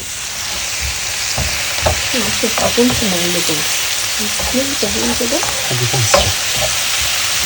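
A burger patty fries in a pan and is stirred and turned, giving a loud, continuous sizzle with scraping strokes while someone talks over it.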